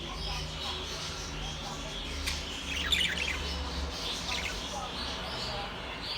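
Pet rainbow lorikeets squawk and chirp in a short cluster, fairly faint, over a quiet indoor background.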